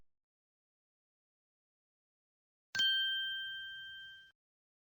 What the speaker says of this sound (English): Oh, did you hear that bell?